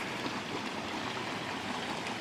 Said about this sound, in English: That's a granite ball water feature.